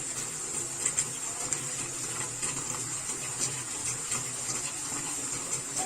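Water running steadily from a tap during handwashing, a soft continuous splashing stream with a faint hiss, steady and fairly quiet throughout.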